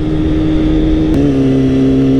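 A super sport stunt motorcycle engine revs loud and steady while being ridden, holding a high drone that briefly dips and then settles a touch lower, with nothing else over it.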